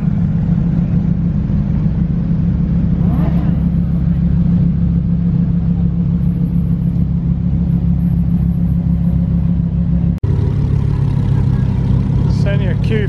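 A Lamborghini STO supercar pulls out of a busy car show exit, its engine rumbling steadily and revving close by, with crowd chatter and talk underneath and a sharp knock near the end.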